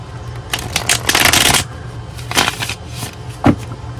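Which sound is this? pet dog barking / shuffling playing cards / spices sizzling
shuffling playing cards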